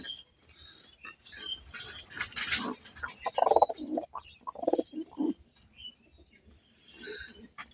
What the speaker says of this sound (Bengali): এখানে এক জোড়া রাজশাহী গিরিবাজ আছে